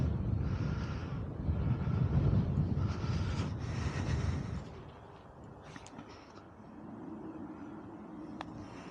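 Wind buffets the microphone out on a links golf course, a heavy low rumble for several seconds that then eases into a steadier, softer gusting.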